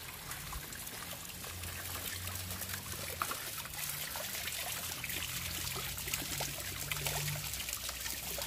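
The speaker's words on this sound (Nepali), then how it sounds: "पानी सर बगिरहेछ" Mountain spring water trickles and splashes between stones along a rocky hillside source in Kalikot, a continuous soft babbling flow with steady low burble and fine splashes, fairly quiet and uninterrupted.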